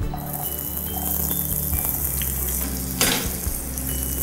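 Onions sizzle in hot oil with cumin and mustard seeds in a pan, a continuous close crackling fry with occasional stirring clatter, no talk.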